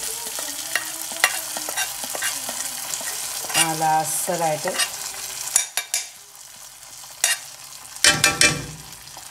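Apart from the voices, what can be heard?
frying in a pan for vellari pathya curry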